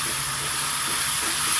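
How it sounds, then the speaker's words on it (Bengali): Loud, steady hiss of dry spice masala sizzling in a hot pan after a splash of water is added, continuous and close with no pauses. "সবটাই ড্রাই মশলা, ওই জন্য আমি সামান্য জল দিয়ে মশলাটাকে কষিয়ে নিচ্ছি"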